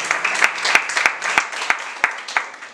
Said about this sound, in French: donc je vous demande de l'applaudir quand même.